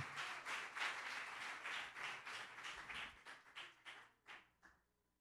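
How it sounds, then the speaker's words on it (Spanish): Applause from a church congregation praising God, a steady burst of clapping that thins into a few scattered, separate claps before fading out. "dé un aplauso al Señor"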